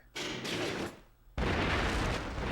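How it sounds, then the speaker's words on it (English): Tier 3 forward-firing demolition shot in the PS2 game Gungrave Overdose, bursts of heavy gunfire and explosive blasts in two loud waves, with a brief lull between them. "that was a nice demonstration of the Tier 3 forward-firing demolition shot there, which is incredibly cool and deals a hell of a lot of damage"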